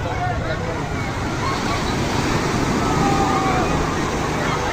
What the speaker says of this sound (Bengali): এখন আপনাদের ফুল জোয়ার দেখেন, ঢেউগুলো কত বড় বড়,